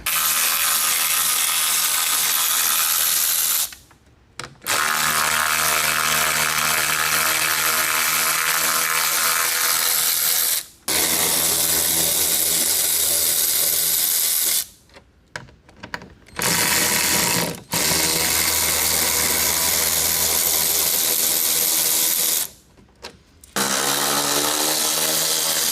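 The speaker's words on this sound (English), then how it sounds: "Now we just have to remove, I believe it's going to be mainly 10mm bolts all the way around." A power ratchet on a high-mileage Ford F150 pickup runs in long buzzing bursts broken by short pauses while removing 10mm bolts from the front trim, loud and close, with no talking.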